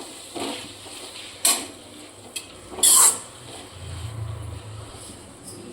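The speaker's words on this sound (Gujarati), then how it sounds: "હવે આપણે આને સરસ મિક્સ કરી દઈશું" Red chili sauce being stirred into a pan of noodles, heard as faint scraping and a few sharp clinks of utensil against the pan over a low steady background hum.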